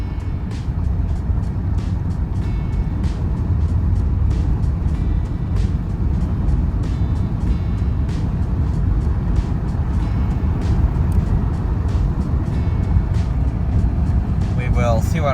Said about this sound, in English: We are just now getting back on the freeway.